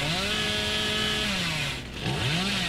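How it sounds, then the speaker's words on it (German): A chainsaw revs in the horror game Dead by Daylight, a steady loud motor whine that dips briefly near the end, then rises again in two quick revving swells. "Da wirft man die Säge an und dann geht's."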